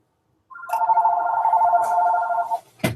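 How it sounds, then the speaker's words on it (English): A telephone rings once, close and loud, as a warbling electronic trill lasting about two seconds. A brief clunk follows at the end. "I should have unplugged my phone."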